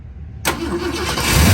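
1969 Ford Mustang Mach 1 with a 390 V8 fires up abruptly after a quiet moment, the start bursting in close and loud, then settling into a rough, rumbling idle that swells slightly.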